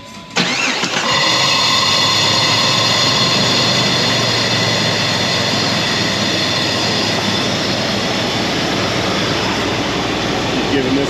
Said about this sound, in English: restart the engine.